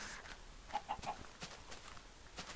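Short chicken clucks from a Minecraft game, three quick soft calls in a row mid-clip amid faint game ambience and scattered clicks, with no talking.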